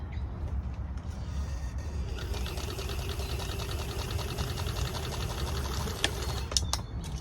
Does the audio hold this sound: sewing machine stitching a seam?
yes